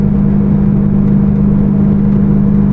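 A BMW M3 fitted with cheap $27 mufflers cruises at about 3,000 RPM near 55 mph, giving a steady, loud low exhaust drone and road rumble from inside the cabin.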